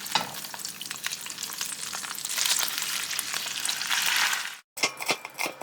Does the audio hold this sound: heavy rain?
no